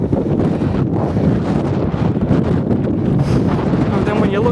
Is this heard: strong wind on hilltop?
yes